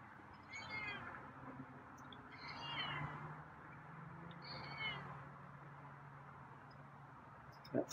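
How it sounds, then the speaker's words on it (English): A feral cat gives three soft meows spread over several seconds, faint against a hissy room background, with a small clatter at the end. "semi-quiet meows."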